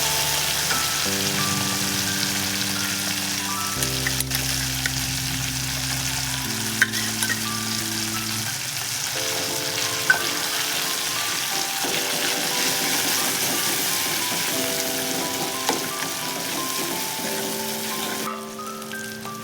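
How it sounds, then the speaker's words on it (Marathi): Ground spice paste for a traditional Maharashtrian toor bean curry fries in hot oil with tomato, a steady sizzle running throughout while a spoon scrapes and stirs the pan in irregular strokes, close and continuous. "वाटण पण तेलामध्ये चांगल्या प्रमाणे परतल्या गेला आहे"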